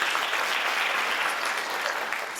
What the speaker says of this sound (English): Let's give yourselves another round of applause.